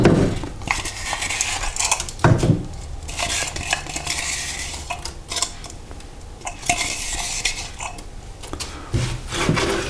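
Bacon bits are stirred into melted butter in a deglazed pan, with brisk utensil scrapes and clinks against the pan and a light sizzle underneath, close and clear with no talking.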